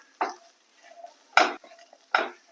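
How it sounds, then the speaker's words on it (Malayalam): Spiced paste with a pinch of salt stirred in a cooking pan for a Kerala turkey berry and jackfruit seed stir-fry: three distinct scraping strokes of a spoon against the pan, close and fairly loud, with quiet gaps between and no talking. "അല്പം ഉപ്പുകൂടി ചേർത്ത് നമുക്കത് കിണ്ടി എടുക്കാം"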